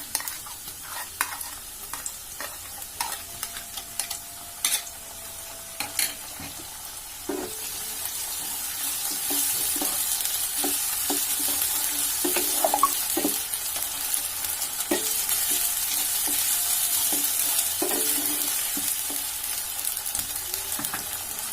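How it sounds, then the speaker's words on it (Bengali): Chopped onions and spices frying in a pan for beef bhuna, first a light crackle with scattered scrapes, then a louder, fuller sizzle as stirring continues steadily. "পেঁয়াজটা আমি এখানে অনেক বেশি ভেজে নিচ্ছি না, তার ভিতরেই আমি মশলাগুলো একত্রে দিয়ে দিচ্ছি"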